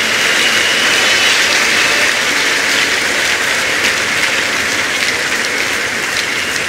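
A church congregation claps loudly and continuously throughout, a dense, even wash of applause with no gaps and no speech on top.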